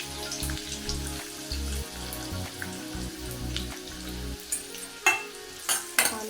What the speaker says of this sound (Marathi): त्यासाठी मी कांदा टाकत आहे यामध्ये.